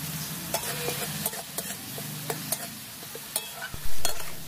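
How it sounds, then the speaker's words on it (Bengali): Chopped tomatoes frying in a pan for a semolina snack, with a steady low sizzle broken by repeated sharp scrapes and clinks of a stirring spoon, ending in a louder burst near the close. "এখন টমেটোটাকেও হালকা করে একটু ভেজে নেব।"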